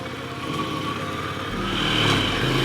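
Ducati Scrambler Desert Sled motorcycle engine under way on a wet dirt trail, a steady mid-pitched drone heard from the saddle that swells slightly as the rider shifts gears.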